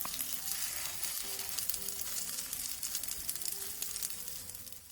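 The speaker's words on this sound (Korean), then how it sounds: "동그랑땡에 계란물을 한번 골고루 입혀준 뒤 중약불에서 앞뒤로 노릇노릇하게 붙여주세요" Egg-coated Korean meat patties (dongeurangttaeng) fry in a pan over medium-low heat, a steady close crackling sizzle with a small knock of a utensil partway through.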